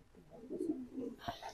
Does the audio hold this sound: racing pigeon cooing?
yes